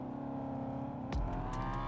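A car engine in the video game Arma 3 Altis Life hums steadily up close, then a sharp knock or thud cuts in and the engine carries on with a heavier low rumble.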